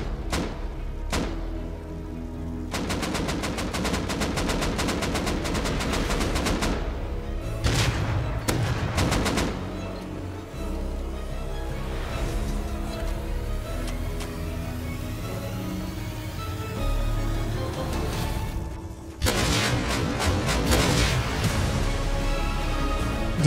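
Rapid bursts of Rust gunfire with heavy booming explosive-ammo impacts during a base raid, sustained volleys broken by short pauses, loud and close.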